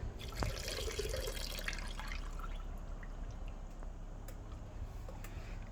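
Rinseless wash concentrate pours into a bucket of water, a close, splashing gush of liquid that settles into a steadier trickle and faint drips.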